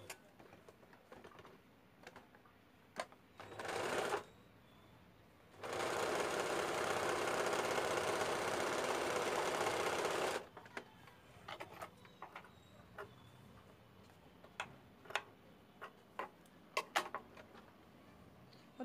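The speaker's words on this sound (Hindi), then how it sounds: "इसको इस तरह ऐसे ऊपर से एक सिलाई लगाना है।" A sewing machine stitching a seam on a frock, with a sustained loud whirring run of about five seconds, preceded by a short burst and followed by scattered clicks and fabric handling, close by and without talk.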